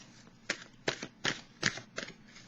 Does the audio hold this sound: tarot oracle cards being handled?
yes